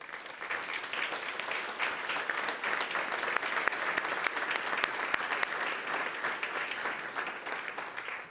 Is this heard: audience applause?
yes